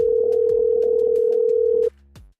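An incoming call rings on a telephone as one loud, steady electronic tone lasting about two seconds, then cuts off abruptly, leaving a brief faint click and near silence.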